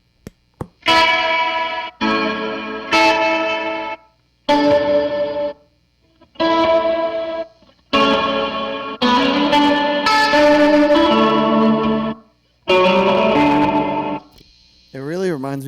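Electric guitar through a Meris Mercury X reverb pedal with gate hold engaged, played in short phrases of chords and notes that cut off abruptly between bursts, with a warped, wobbling tail near the end.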